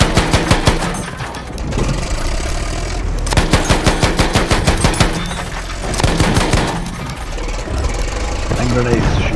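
Rapid bursts of automatic gunfire in a Battlefield 1 Conquest match, repeated volleys over several seconds with engine rumble from a light tank underneath and a voice talking intermittently.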